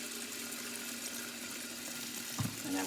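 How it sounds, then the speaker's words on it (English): Fresh water running steadily into a cooking pot, a continuous moderate splashing flow with a slight clunk near the end and no speech. "I'm catching fresh water and I'm going to put it back to the fire to cook."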